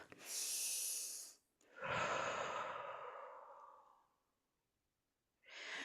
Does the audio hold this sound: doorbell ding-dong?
no